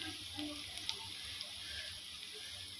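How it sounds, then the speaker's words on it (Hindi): Garlic ginger paste and spices sizzle in hot oil in a pan while cooking a karela and bhindi dish, a steady close hiss with faint crackles and no talk. "लहसुन अदरक अच्छी तरह भून चुके हैं, अब मैं डालूँगी मसाले।"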